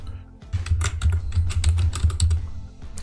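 A password being typed on a computer keyboard, a quick run of close, crisp key clicks over a low steady hum for about two seconds, with no speech.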